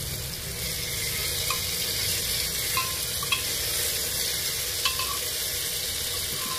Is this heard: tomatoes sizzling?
yes